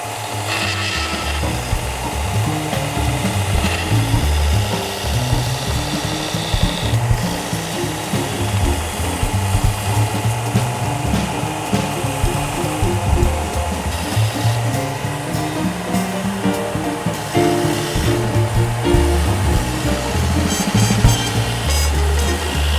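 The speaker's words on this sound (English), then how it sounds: "I use a 90-degree belt sander here to get that cleaned up" A 90-degree belt sander cleans up wood for a fine furniture rocking chair, giving a continuous abrasive whir with a steady texture throughout, close and fairly loud, with no talking.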